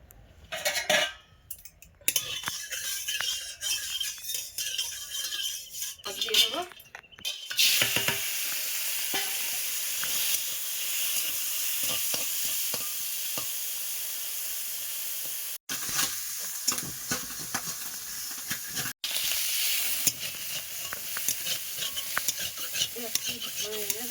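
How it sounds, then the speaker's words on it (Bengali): Fish frying in a little oil in a home kitchen, starting with a few seconds of clattering handling before a steady, close hiss of sizzling that carries on with brief interruptions. "অল্প তেল দেবো দিয়ে মাছগুলো ভাজবো"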